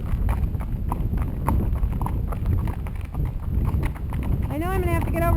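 Horses' hooves clip-clop steadily along a trail ride near Mill Creek, a continuous rhythmic plodding under ongoing conversation among riders, with a brief whinny-like tonal sound near the end.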